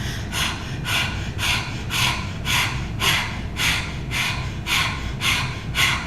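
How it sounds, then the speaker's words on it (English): Rapid open-mouthed dog-like panting during a yoga breathing exercise, a steady train of about a dozen short, breathy huffs, close and fairly loud, with no talking. "sticking our tongue out and panting like a dog"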